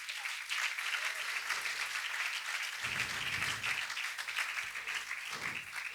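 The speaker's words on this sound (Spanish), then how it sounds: "Dale un aplauso a Jesús." Church congregation applauding during a sermon, a sustained broad crowd of clapping heard from a distance, with low rumbling thumps and a brief voice or cheer rising partway through.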